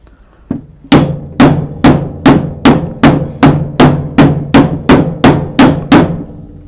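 A hammer strikes a leather stamp on an anvil: one light tap, then eleven hard, evenly spaced blows, loud and close, each ringing briefly before the next.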